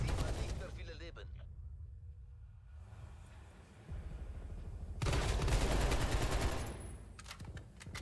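Automatic gunfire in Call of Duty Black Ops Cold War, bursts of rapid shots at the start and again midway, with quieter game noise between and a player talking.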